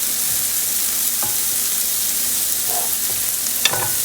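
Vegetables sautéing in a pan over high heat, a steady dense sizzle with a few soft clinks and stirring bumps, one sharper tap near the end, no voices.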